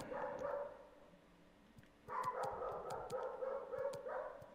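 A dog barks in repeated sharp bursts in the background, with a pause between two loud stretches of barking.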